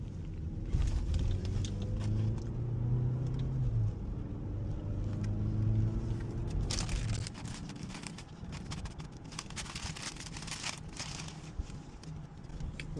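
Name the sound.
car driving on a road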